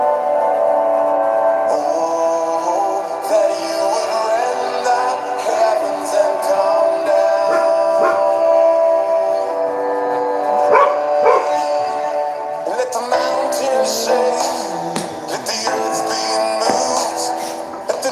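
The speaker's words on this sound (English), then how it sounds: "we apologize for the dogs if they start barking" Dogs bark in scattered bursts beneath loud worship music and singing at a Sabbath service, the yaps partly buried in the sustained melody.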